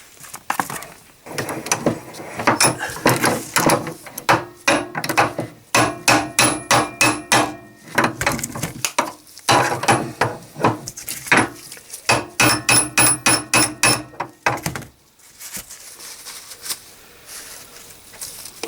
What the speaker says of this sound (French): Maintenant, je vais les enfoncer complètement sur l'étau.